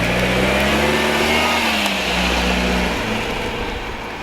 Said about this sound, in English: Alright, now let's go for a drive.